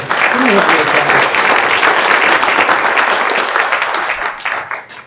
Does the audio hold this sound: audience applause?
yes